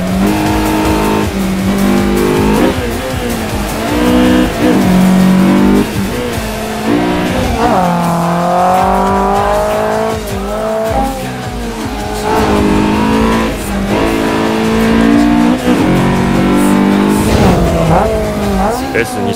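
Honda S2000 with its F20 VTEC engine driving hard on a wet road: loud, continuous revving with rising and falling pitch through gear changes, close and dominant, with narration over it.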